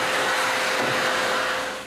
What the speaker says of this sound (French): La première chose que je fais, c'est de passer l'aspirateur.